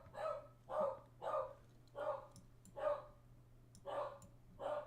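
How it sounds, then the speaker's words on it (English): A dog barks repeatedly in a steady rhythm, about eight sharp barks at moderate distance over a faint constant electrical hum. "my dog is barking"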